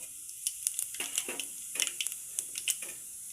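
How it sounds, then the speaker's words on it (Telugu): Mustard seeds, cumin and coriander sizzle in hot oil in a pan while rice-flour upma is being made, with a steady hiss broken by many quick, close crackles and pops. "నూనె గరం అయింది ఆవా జీలకర్ర వేసుకోవాలి ధనియాలు వేసుకోవాలి"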